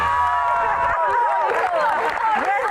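A studio audience at a dangdut show claps and cheers for three diva panelists, loud sustained applause with shouts rising over it, steady from start to finish.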